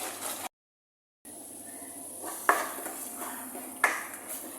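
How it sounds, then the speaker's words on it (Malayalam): Mango pickle mixture being stirred in a pan as it thickens, with soft scraping and a couple of sharp utensil clinks against the pan over a low background hiss. "അതുവരെ ഒന്ന് കുറുകുന്നത് വരെ ഇളക്കി കൊടുക്കുക."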